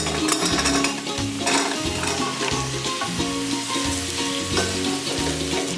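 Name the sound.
masala and pumpkin sautéing in a pan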